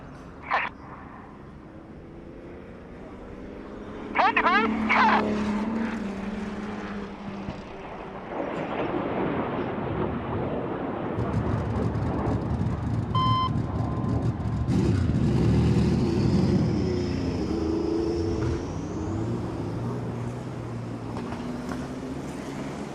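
Aerobatic display jets cross in opposing 360-degree 6G turns at about 800 mph at the Goodwood Festival of Speed. A broad jet roar swells in from the distance and stays loud and continuous as they pass.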